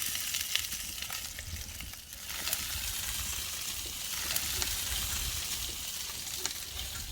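Wieners browning in a hot pan give a steady close sizzle and crackle of frying, with a few faint stirring clinks and no talk.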